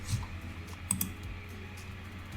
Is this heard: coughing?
no